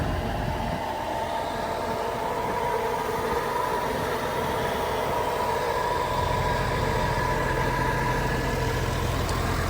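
A 60-70 tractor idles in a farm field, giving a steady low rumble with a constant drone that carries on evenly without change and with no talk.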